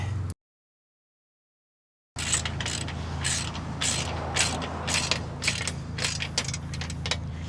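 A ratchet wrench clicks in rapid repeated bursts while bolts are tightened on a boat trailer, after a brief silence, with a faint steady hum behind.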